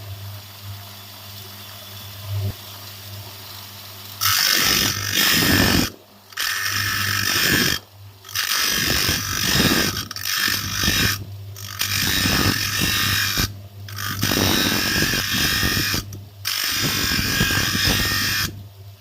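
A power tool grinds and chamfers the edges of a part while working on an air conditioner compressor line, in loud buzzing bursts with short pauses between passes, close up and without talk.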